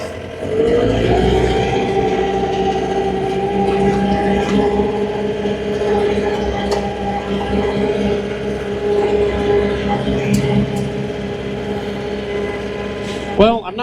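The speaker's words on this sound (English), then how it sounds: "at just idle, and then idle it up as we're driving" A John Deere engine showing error code 4 idles up while driving, a loud, steady droning hum that climbs in pitch at the start and then holds, with a brief rattle near the end.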